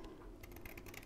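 Scissors snip through paper during a children's craft activity, faint close clicks and crisp cuts in quick irregular succession, with no voices.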